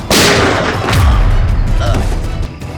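A gunshot in a Bengali-dubbed CID TV crime drama: a sharp, loud blast opens the clip, followed by a second heavy boom and a lingering, reverberant rumble.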